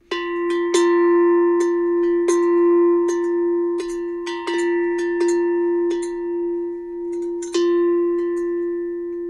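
Bell sample played back by a smart speaker assistant: a series of bright metallic strikes, about a dozen in irregular rhythm, each ringing with a sustained clear tone that overlaps the next, close and fairly loud with no talking.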